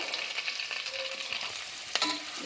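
Green chillies, onion, carrot and beans frying in oil in a pressure cooker, a brief close sizzle with light stirring scrapes and a sharper utensil knock near the end.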